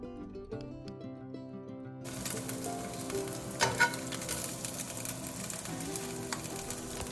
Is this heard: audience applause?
no